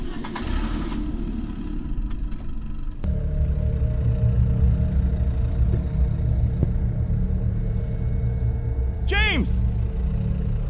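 In a horror video game, a car engine kicks in after a quieter opening and settles into a loud, steady driving drone, with a brief rising chirp near the end.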